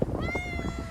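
A white cat gives one drawn-out meow close up, heard over light background noise.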